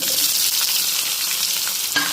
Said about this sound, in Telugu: ఇప్పుడు నేను ఆనియన్ పచ్చిమిర్చి ముక్కలు అయితే వేసేస్తున్నాను